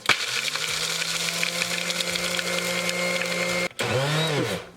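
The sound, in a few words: blender grinding cashews into flour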